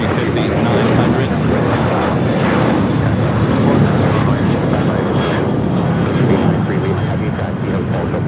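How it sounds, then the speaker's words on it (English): An Airbus A350-900 airliner arriving from Paris Orly at LAX roars loudly and steadily with a continuous broadband engine rush, while a commentator talks over it. "Also just had the French B coming in from Paris, Orly, the A350-900."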